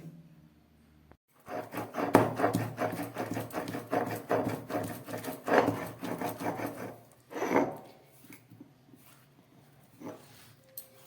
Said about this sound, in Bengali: এই শিলের মধ্যে এই যে লঙ্কা আর সর্ষেটাকে আমি ধুয়ে নিয়েছি এই লঙ্কা সর্ষেটাকে ভালো করে বেটে নেব